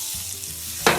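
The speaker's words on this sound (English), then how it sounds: "We're going to get a little butter going in there." Butter sizzles in a pan for a sauce, a steady hiss with a sharper burst of frying near the end.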